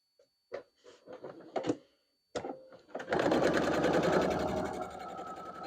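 Sewing machine stitching a Barn Star (Mosaic Star) quilt block, first in short stop-start bursts, then a long, steady, loud run of rapid stitching close up.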